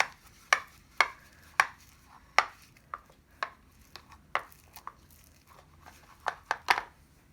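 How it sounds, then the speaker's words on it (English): Glue paste for butter slime is mixed in a bowl with about a dozen sharp, sticky slapping and clicking strokes at an uneven rhythm, close and fairly quiet, with no one talking. "If you just mix a bit further, it will turn into a thick paste."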